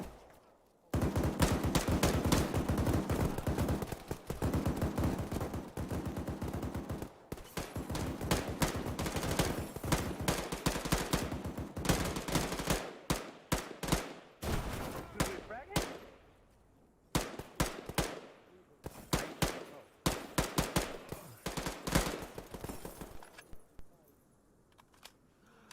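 Suppressing gunfire during a military combat lifesaver training exercise: long, rapid bursts of loud, close shots broken by brief pauses, then scattered shorter volleys that thin out toward the end.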